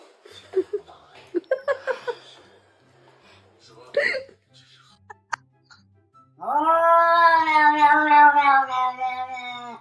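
A house cat lets out a long, loud, wavering yowl near the end, drawn out for several seconds after some brief chuckling and scattered short sounds from people nearby.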